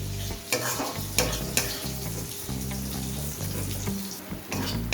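Spice paste with Kashmiri red chili powder frying in a pan for a loitta fish dish, stirred with repeated scraping strokes over a sizzling sound while a low musical hum runs underneath.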